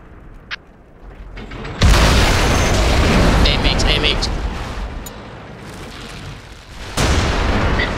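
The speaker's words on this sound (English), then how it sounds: "All their arties landed on me." Artillery shells from enemy self-propelled guns land in a World of Tanks clan battle, producing a heavy, loud boom followed by a long rumbling roar and a second impact near the end.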